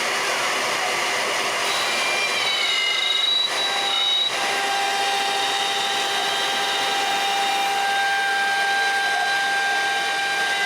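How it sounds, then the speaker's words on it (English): A CNC machine cutting a wooden jig for a weaved cribbage board, a loud, steady high whine with shifting tonal squeals over a constant broadband roar, close by with no talk. "start the CNC to cut the jig"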